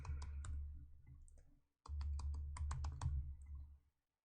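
Keys on a computer keyboard clatter in two quick bursts of typing, close and crisp, with a brief pause between them while an email address is entered to log back into a game.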